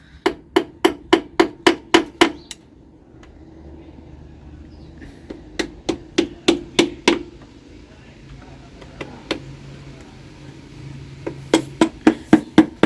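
Sharp metallic hammer strikes on an engine in quick bursts of about eight blows, pausing in between, with a low hum and faint background noise under the pauses.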